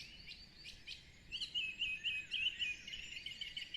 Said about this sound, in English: What are the birds calling you to do?